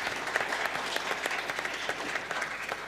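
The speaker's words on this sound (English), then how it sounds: "Here is your applause." Audience applause after a panel discussion at a European policy event, steady dense clapping throughout at moderate volume with no talk over it.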